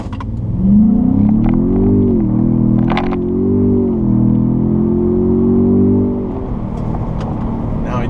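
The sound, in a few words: 2017 Ford Raptor truck launching on pavement, engine revving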